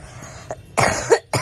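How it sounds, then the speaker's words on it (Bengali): A person coughs several times in a room: a small cough, then a harsh, loud burst and another starting at the end. "আমার ভীষণ কাশি হয়েছে"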